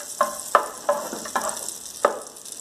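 Butter melting in a pan for a chicken pie filling sizzles steadily, with several sharp close clicks and scrapes of a utensil stirring against the pan at an uneven pace.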